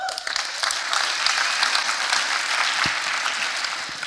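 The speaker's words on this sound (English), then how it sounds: "We can clap that up." A church congregation breaks into full, dense applause during a celebration service, a sustained wash of many clapping hands held at an even level throughout.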